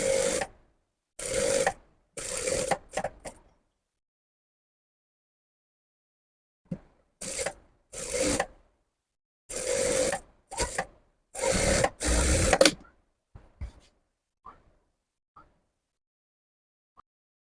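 A sewing machine stitching a pan gala neck design on fabric: short bursts of fast rattling stitching separated by silent pauses, with a few soft handling clicks near the end.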